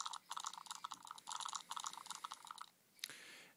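Keypad tones from a Samsung S5230 Tocco touchscreen phone, a quick run of short electronic beeps in bursts, then a brief pause and a final longer tone, faint and without talking.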